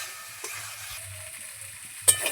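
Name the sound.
spice paste with salt and turmeric being stir-fried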